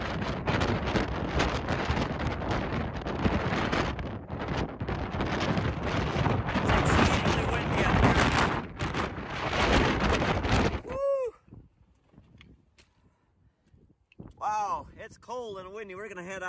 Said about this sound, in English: Cold and windy.